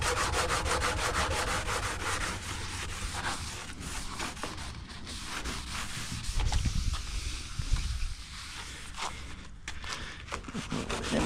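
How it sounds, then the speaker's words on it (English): Rust is scrubbed off an old Binder truck with Comet cleanser in steady, rapid back-and-forth rubbing strokes, close and fairly loud, with a brief heavier patch of scrubbing midway and no talking. "Taking a bunch of that road rash surface rust off"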